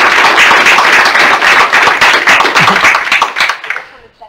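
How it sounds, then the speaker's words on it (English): Round of applause from a small seminar audience of about a dozen people, dense steady clapping for several seconds that thins out and fades at the end. "So anyway, another round of applause"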